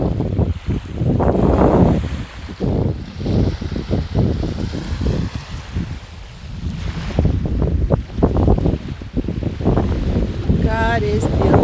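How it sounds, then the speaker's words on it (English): Water and waves lapping outdoors under strong gusting wind that buffets the microphone, a continuous rough wash of sound with a voice talking over it in places. "You hear the water?"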